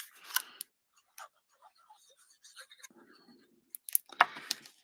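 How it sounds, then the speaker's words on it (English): Card stock is cut in half with scissors, giving a few sharp snips and crisp paper rustles separated by quiet gaps, with soft handling noises in between. "I'm going to actually cut this in half."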